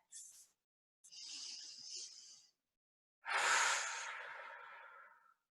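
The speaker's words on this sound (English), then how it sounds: "Breathing here, a couple of long, slow, deep breaths, yogic breaths." Three long, slow, deep yogic breaths during a seated yoga twist, close and airy: a short inhale, then a longer breath, then a strong full exhale that gradually fades, with silence between them and no talking.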